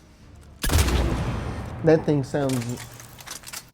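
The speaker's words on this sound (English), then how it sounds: "audio of the Claymore firing." A single booming blast from the Claymore shotgun in the video game Mass Effect 3, loud and sudden with a long rumbling decay, followed by someone speaking briefly.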